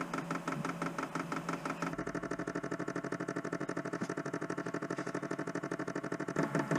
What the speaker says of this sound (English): Now we can hear the pump moving. So it seems to be getting more frantic with its pumping.